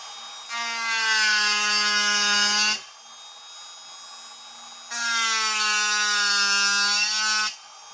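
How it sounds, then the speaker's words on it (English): A small abrasive cutoff saw bites into the metal webbing of a sword hilt in two loud, sustained whining passes, each around two seconds long, with a quieter idle hum between and after them. "So now I've got a little abrasive cutoff saw here."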